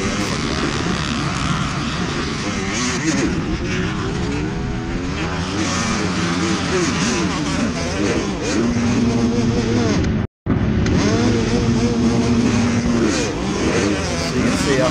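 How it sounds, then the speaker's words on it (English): Motocross dirt bike engine at a Sand Mountain race start, loud and close, with dense roar of other bikes and voices over it; the engine note wavers and cuts out briefly near the end before the noise resumes. "You can hear the bike just die."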